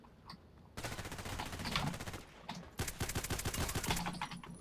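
GSH-18 pistol fire in the video game Contact Wars, heard amid dense bursts of rapid gunfire with sharp repeated cracks, including other weapons firing, moderately distant.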